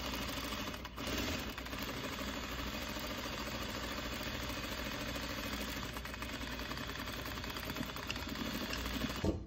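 A sewing machine runs steadily while sewing a quarter-inch seam along the top of a fabric face mask. The whirring is continuous and fairly faint, with a brief dip early on and no talking.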